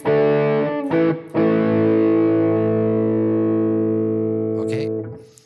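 A distorted electric guitar runs through the rhythm preset of a Headrush pedalboard, with an IR and reverb engaged: a few short choppy strums, then one big chord rings out loud and steady for several seconds before it is cut off.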